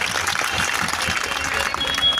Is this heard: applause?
yes